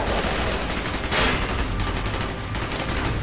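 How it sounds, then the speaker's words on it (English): Dense, continuous automatic gunfire from the Call of Duty: Black Ops video game, with loud rapid bursts blending into a steady roar and one sharper volley, with no talking over it. "Gunfire's drawing attention."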